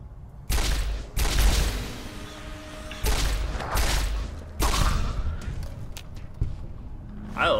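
Gunfire in Fallout New Vegas comes as loud, booming bursts of repeated shots, separated by short pauses, heard with no talking.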